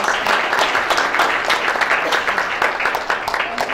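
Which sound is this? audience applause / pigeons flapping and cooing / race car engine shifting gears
audience applause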